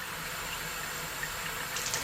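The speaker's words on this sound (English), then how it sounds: "getting a line of water straight down the middle of the opening to flush out the inside like that" Water runs steadily from a tap into a natural sausage casing, flushing out its inside while venison boerewors is prepared; a continuous, fairly close hiss of flowing water with no talk.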